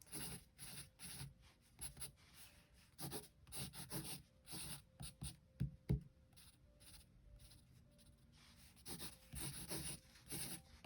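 IKEA pencil scratching and rubbing on paper in short bursts of strokes, close and faint, with small knocks of the pencil between strokes and no talking.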